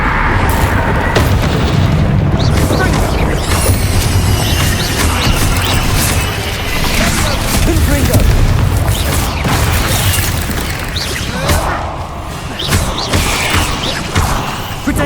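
Repeated Confringo fire-spell explosions in the Hogwarts Legacy video game, heard as loud, dense booms and bursts that follow one another without a break during a fight in a goblin mine.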